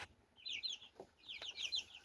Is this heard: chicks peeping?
yes